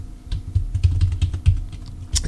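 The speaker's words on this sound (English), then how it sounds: "I'm typing here because I want to give you the exact and correct information" Typing on a computer keyboard, an irregular run of close keystrokes with soft thuds and clicks, steady at moderate volume over a low background, no voices.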